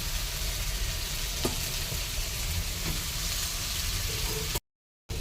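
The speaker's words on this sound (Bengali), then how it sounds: "মশলাটা যেহেতু ভাজা ভাজা হয়ে গেছে" Spices fry in a pan with a dense, even sizzle and crackle that holds steady and close, with a few faint knocks, before a short silent gap near the end.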